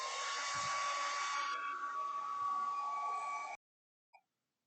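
A hair dryer blows steadily with a loud broadband whoosh for about three and a half seconds, drying a cleaned Nintendo controller port, then cuts off abruptly, followed by a brief faint click.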